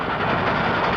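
A locomotive rumbles past as a steady, dense roar of train noise for about a second, loud and close with no voices over it.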